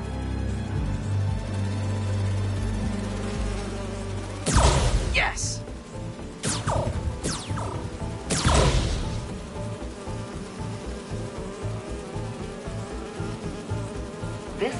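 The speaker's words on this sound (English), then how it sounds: "Do you see those little holographic bee wolves?" Holographic bee wolves in a Spider-Man video game, a dense nearby insect-like buzzing swarm that runs throughout, with several sharp thwacks and crashes partway through, and a voice exclaiming briefly over it.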